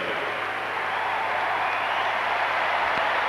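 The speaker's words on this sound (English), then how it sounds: "after the Russians are given their applause" Audience applause for the Russian gymnastics team at the Atlanta 1996 Olympic gymnastics gala forms a steady wash of clapping from a large arena crowd, sustained and even throughout.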